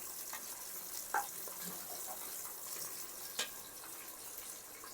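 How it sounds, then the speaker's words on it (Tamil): Onions fry in a pan for a village-style thin chicken curry, a soft continuous hiss with a couple of brief stirring knocks, fairly quiet, with no voices. "நல்லா ஆனியன் நல்லா வதங்கி வர அளவுக்கு நல்லா வதக்கி விடணும்"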